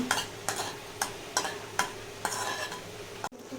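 Cashews frying in ghee in a pan, a low steady sizzle punctuated by about six evenly spaced scrapes of a spoon stirring them, quiet and close with no voices.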